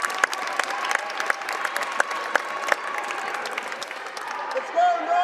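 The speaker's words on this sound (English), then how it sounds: "who gets a nice round of applause." A high school boys basketball crowd in a gym applauds a player checking back in, a scattered, lively round of clapping with sharp individual claps, faint voices and a sneaker squeak near the end.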